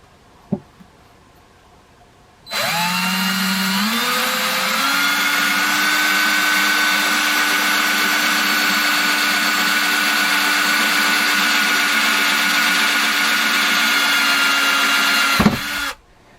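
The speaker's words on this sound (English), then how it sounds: "I drilled my hole straight in" A power drill bores a hole for antenna coax while building a small magnetic loop antenna. Its loud, steady motor whine spins up, holds for about thirteen seconds, then stops abruptly. No one speaks.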